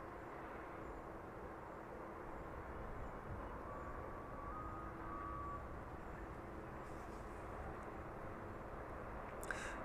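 An airplane arriving on runway 27 at East Midlands Airport gives a faint, steady, distant engine rumble that holds evenly throughout, with no voices.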